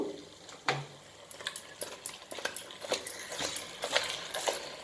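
A pan of fish curry with masala is shaken, giving soft irregular rattles, clinks and shuffling knocks close by, fairly quiet and without talking.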